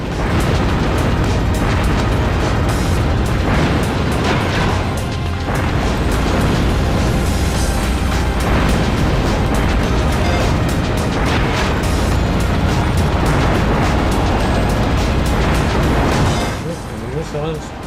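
Missile explosions in a video game boom one after another, loud and continuous, with dense rumbling blasts filling nearly the whole stretch before easing off at the very end.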